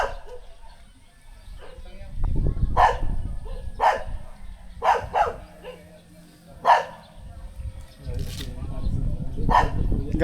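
Dogs barking in sharp single yaps spaced out over several seconds, fairly close, mixed with people talking and a rumbling background.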